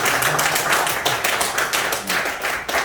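An audience at a lecture claps, a loud, steady wash of many hands with rhythmic pulses running throughout, heard close with no voices over it.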